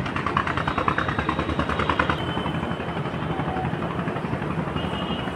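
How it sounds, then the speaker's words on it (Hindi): Steady, continuous tractor engine chugging outdoors with a dense, rumbling low drone that holds fairly loud across the whole stretch, with no talk over it. "फिर से ट्रैक्टर की आवाज़।"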